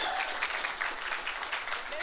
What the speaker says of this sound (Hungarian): Tapsot kérünk szépen neki.